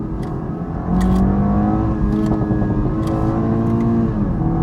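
Toyota sports car, a Supra 2.0 or 86, accelerating in second gear from inside the cabin, a loud steady engine drone whose pitch climbs gradually as revs build, with no talking.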